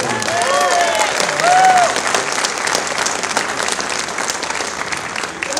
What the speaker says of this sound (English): Big round of applause to everybody in advance for putting this thing in